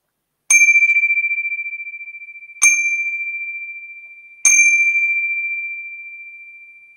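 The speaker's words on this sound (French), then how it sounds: "l'expérience commence, vous allez voir, à 3 sons de cloche" A bell struck three times at even intervals to begin an exercise, each ring a bright clear ding that sustains and slowly fades, loud and alone in silence.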